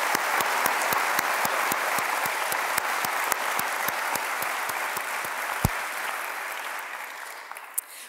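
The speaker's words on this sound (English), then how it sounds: "Please give these exceptional leaders and all of our components a big round of applause" A large audience at the 2019 Attorney General Awards ceremony gives a sustained round of applause, dense steady clapping that holds loud and even throughout before thinning slightly near the end, with no talking over it.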